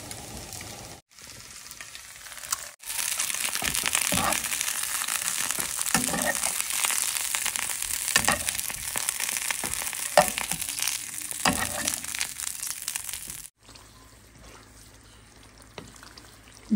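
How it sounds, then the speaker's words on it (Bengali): Eggs lightly frying in a pan give a steady, close sizzle with crackling bursts and a few utensil scrapes, running for most of the stretch before cutting off to quiet near the end; no talking. "ডিমটা হালকা ভেজে নিচ্ছি"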